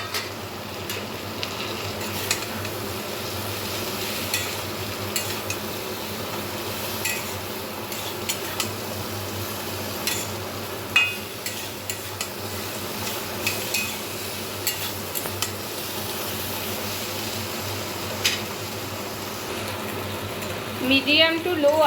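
Steady scraping and clinking of a utensil stirring mixed vegetables with carrot and tomato in a pan over medium-low heat, continuous and close with a soft sizzle underneath, and a voice speaking over it throughout.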